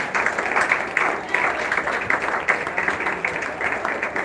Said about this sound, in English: recognize your vice principals and teachers with a loud round of applause